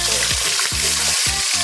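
Mackerel sizzles loudly in hot oil in a non-stick-free pan, a dense continuous crackle with a few intermittent bubbling pops and no talk.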